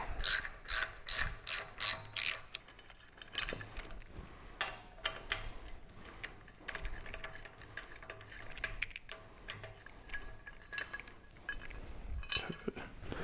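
A ratchet with a 5/16 socket backs out the carburetor bolts on a Harley Sportster, opening with a quick burst of rhythmic clicking, then lighter, scattered ticks and clinks of the work, close by.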